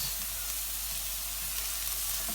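Onions salted in a hot pan sizzle and fry in a steady, close hiss with no break, as they sweat and get stirred with a spatula. Nobody speaks.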